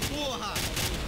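Gunfire in Call of Duty set in Rio's Rocinha at night: a quick burst of rapid shots under a shouting voice, close and dense over about a second.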